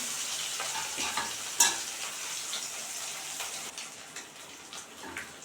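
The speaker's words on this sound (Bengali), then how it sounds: "জ্যান্ত কাতলা মাছ খুব সুন্দরভাবে ভেজে ফেলেছি" Pieces of live-caught catla fish fry in hot oil, giving a steady, close crackling sizzle throughout, with one brief sharp clatter early on and no talking.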